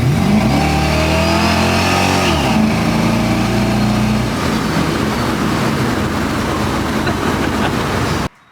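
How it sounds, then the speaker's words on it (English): A Chevrolet C10 truck drives along with a worn power steering pump, its loud steady engine drone carrying a tonal whine that rises and falls, then cuts off abruptly; no one speaks. "That power steering pump's whining pretty bad"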